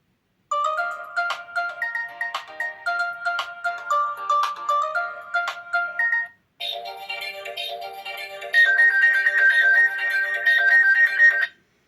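An Oukitel C32 smartphone ringtone plays a bright, repeating electronic melody, loud and clear, with a short pause midway before a fuller second phrase; no talking.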